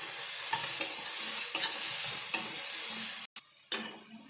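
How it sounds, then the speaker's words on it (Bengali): Garlic and ginger sautéing in a pan with onion for moong ghugni make a close, continuous sizzle, broken by a few stirring scrapes and one brief gap near the end. "রসুন আর আদাটা দিয়ে দেবো। ভালো করে সাঁতলিয়ে নেব।"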